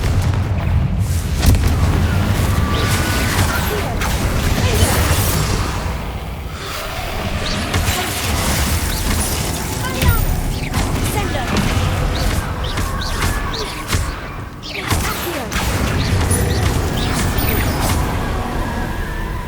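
Booming fiery Confringo spell blasts in Hogwarts Legacy during a fight with Inferi, loud and continuous with repeated explosive bursts layered over dense game noise and music.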